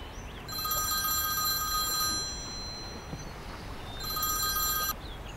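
An incoming telephone rings in two bursts of bright electronic trilling, separated by a pause, during a tense kidnapping scene where the call is being recorded, heard over a low background hiss.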